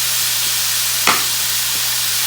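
Ground beef sizzles steadily in a hot pan while a spoon breaks it apart, with one brief scrape and clack partway through and a constant frying hiss throughout.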